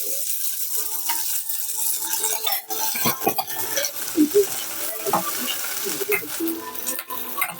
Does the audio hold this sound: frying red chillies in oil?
yes